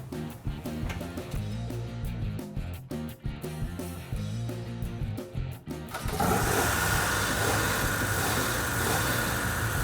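A 1970 Dodge Challenger with a 440 engine and four-speed runs near the microphone, a steady rumbling idle with a pulsing low beat, rising to a louder, rougher roar for the last few seconds.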